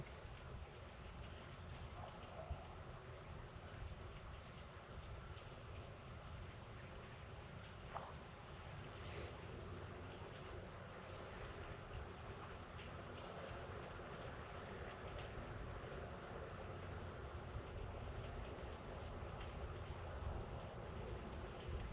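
Wind blows across an outdoor fishing spot as a soft, continuous low rumble and buffeting against the microphone, faint and steady throughout.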